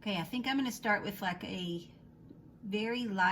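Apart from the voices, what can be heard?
No everyday noise stands out behind the speech.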